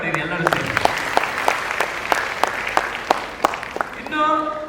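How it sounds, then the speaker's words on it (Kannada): An audience at a student scholarship distribution ceremony claps in scattered, fairly sparse bursts, with a voice heard alongside the applause. "ಒಂದು ಚಪ್ಪಾಳೆ ಹೊಡೆಯಿರಿ ಎಲ್ಲರೂ ಸೇರಿ"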